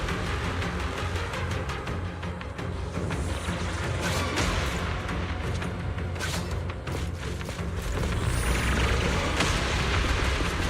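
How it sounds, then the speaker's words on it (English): Rumbling explosions from a cocoon in the video game Zenless Zone Zero, a dense stream of dull booms and crackling impacts that grows heavier toward the end. "The explosions are becoming more frequent."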